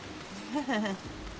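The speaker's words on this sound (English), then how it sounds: "That is a lot of rain coming down." Heavy rain pours down in Final Fantasy XIV as a dense, continuous wash of patter, with a voice briefly speaking over it partway through.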